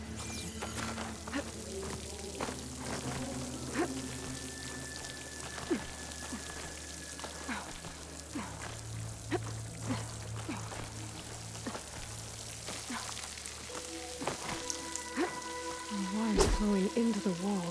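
Flowing water near a waterfall in the video game Horizon Forbidden West, a steady broadband rush running throughout with scattered game effects and a brief louder burst near the end, with speech mixed in.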